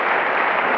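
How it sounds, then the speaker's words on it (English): A brief burst of steady audience applause at a Parsons School of Design talk, dense clapping from many hands filling the room at even loudness. "have a round of applause for both Frank and for Paul"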